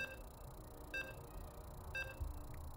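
Faint, evenly spaced electronic beeps sound during a video game match, three short tones about a second apart over a quiet background hum, with no voices.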